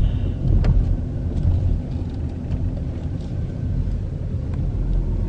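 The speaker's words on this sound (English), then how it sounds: "I am driving out of the parking lot." A car pulls out of a parking lot in Tupelo, Mississippi, with a steady low engine rumble and road noise heard from inside the cabin, continuous and fairly loud.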